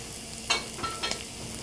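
Mushrooms and shallots sizzle quietly in a pan, with a soft frying hiss broken by a few brief scraping clicks of stirring, close by and faint.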